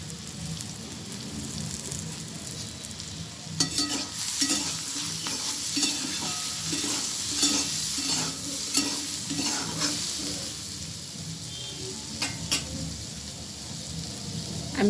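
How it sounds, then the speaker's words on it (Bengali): Vegetables with fenugreek greens fry in a pan with turmeric and salt, giving a loud, continuous close sizzle broken by repeated stirring scrapes, with no talking. "সবজিগুলো আমি খুব ভালোভাবে ভেজে নিয়েছি"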